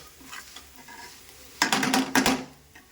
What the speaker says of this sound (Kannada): ಎಲ್ಲ ಪೌಡರ್ಗೆಲ್ಲ ಮಿಶ್ರಣವನ್ನು ಸೇರಿಸಿ ಇದಕ್ಕೆ ಒಂದು ಒಳ್ಳೆ ಮಿಕ್ಸ್ ಕೊಡಬೇಕು